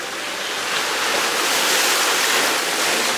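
Ocean surf at Waikiki Beach washes in a continuous loud hiss, waves breaking and foaming close by with a gentle surge in the middle, no voices over it.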